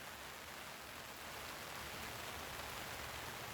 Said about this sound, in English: the tree is raining big drops on the lake